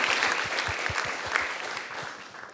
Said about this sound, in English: one more round of applause for Daniela